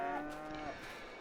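A cow in a slatted cow shed in the Farming Simulator video game gives a single drawn-out low moo, close and clear, with faint ambient background.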